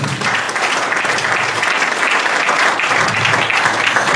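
A church congregation applauding the Lord after prayer, loud, dense and sustained clapping close by that carries on evenly throughout with no pauses.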